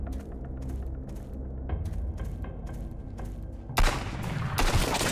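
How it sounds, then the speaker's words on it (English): Gunfire in the survival video game Sunkenland, a string of separate shots that pops at first, then a louder, denser burst near the end, with no talking. "Who's already shooting at me?"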